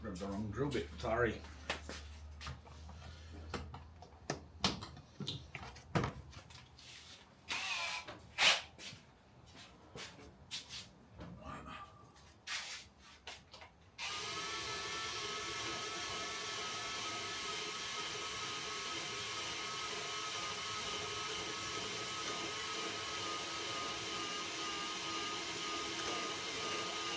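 A power drill whirs steadily and loudly for a long stretch after a span of clattering, handling noises and someone talking.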